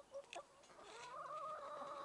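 Backyard hens cluck and chirp close by, a few quick syllables followed by a short run of rising, drawn-out calls, fairly faint overall.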